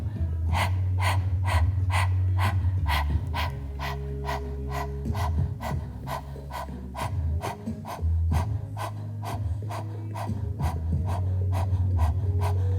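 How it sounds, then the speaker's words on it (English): Breath of fire yoga breathing: rapid, rhythmic forceful exhales through the nose at about two per second, sustained close up over a low background hum. "this breath of fire is done mostly by adults"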